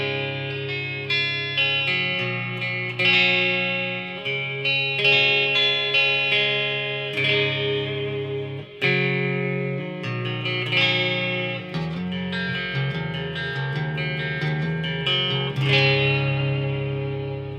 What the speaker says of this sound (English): Let's do a little reverb and hit our rhythm switch